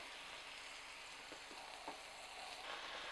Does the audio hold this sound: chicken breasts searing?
yes